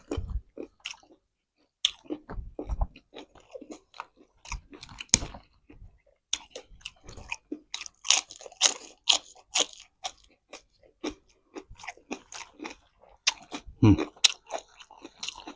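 Close-up mukbang chewing of crispy pork with crunchy greens such as morning glory and Chinese kale, alongside spicy papaya salad with crab: irregular loud crunches and bites, then steady wet mastication between quiet pauses.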